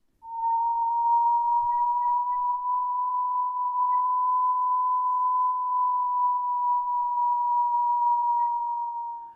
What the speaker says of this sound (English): selecting a target of interest enables the operator to listen to this audio signature and identify the various target types